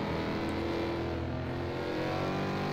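Ford Mustang race cars in a racing game on the Mid-Ohio chicane course, a steady loud drone of several engines holding high revs close by, with no voices.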